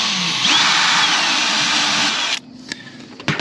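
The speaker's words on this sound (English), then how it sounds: "I'm gonna take out these screws right here" A power drill whines steadily for about two seconds, backing screws out of a metal roof on a home, then cuts off abruptly, leaving a few faint knocks.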